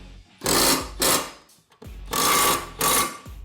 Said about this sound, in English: These have a 15/16 socket, so we'll just crank them down real tight.